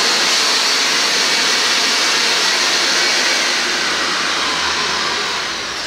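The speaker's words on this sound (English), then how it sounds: "A really strong blower." A ShopVac wet-dry vacuum motor running as a strong blower gives a loud, steady, close whoosh and whine that holds evenly, easing slightly at the end.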